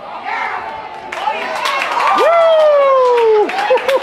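Baseball crowd at a Morgan Park Mustangs varsity game erupting into loud, sustained cheering, whoops and shouts, swelling after a second and staying strong, with a shrill whistle-like cry rising over the roar.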